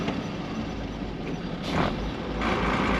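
The heavy diesel engine of a 1980 Volvo F7 lorry idles and rumbles steadily, with a hiss of air and a rise in revving near the end, close by and fairly loud.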